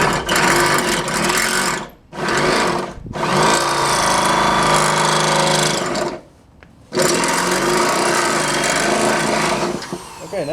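A power drill runs in long sustained bursts with brief pauses while a hood is fitted onto a 4WD Daytona, loud and close, its steady whine broken by short stops.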